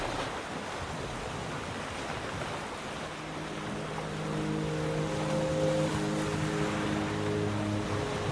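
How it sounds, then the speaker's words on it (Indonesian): Ocean waves wash over wind noise at sea before sunrise, with the steady hum of small boat motors rising in the second half as boats head out. "Sebelum matahari terbit, ribuan perahu kecil mengayuh ke lautan lepas"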